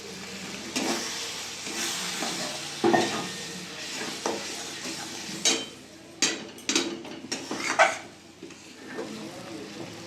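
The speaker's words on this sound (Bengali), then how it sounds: "অল্প জল দিয়ে ভালো করে মশলাটা কষিয়ে নেব।" Masala with tomatoes and a little water fries in a pan for a Bengali chicken curry, a soft sizzle broken by irregular stirring scrapes and clatters of a spoon against the metal, close by.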